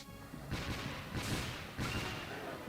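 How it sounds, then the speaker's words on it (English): Cannon blasts in the action RPG Dark Cloud 2, two or three heavy booming shots spaced about a second apart over a steady game background. "I'll get my cannon."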